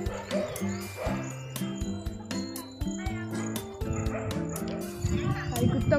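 Several dogs bark in sharp, repeated bursts, some yipping and whimpering, close by and loud, with people talking in between.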